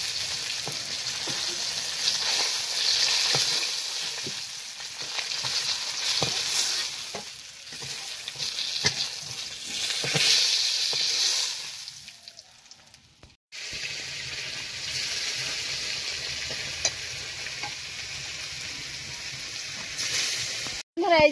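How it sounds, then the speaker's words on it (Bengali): Pieces of fish fry in hot oil in a pan with a loud, continuous crackling sizzle, broken by a short pause partway through before the spitting resumes. "লাল লাল হয়ে ভেজে নিয়েছি, একদম লাল হয়েছে মাছগুলো"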